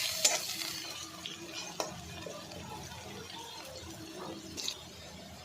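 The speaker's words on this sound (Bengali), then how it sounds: "কিছুটা পেঁয়াজ কুচি, কিছুটা কাঁচামরিচ দিয়ে কিছুক্ষণ ভেজে তাকে লাল করে নেব।" Chopped onions and green chillies fry quietly in a pan with a soft, continuous sizzle, broken by a few scraping stirs of a utensil.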